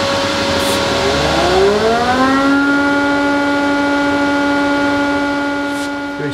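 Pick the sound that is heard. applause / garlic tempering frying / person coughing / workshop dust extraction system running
workshop dust extraction system running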